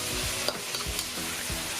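Portobello mushroom slices and firm tofu stir-fried in a wok with carrots and eggplant: steady close-up sizzling with repeated scraping strokes of the spatula, and no voices.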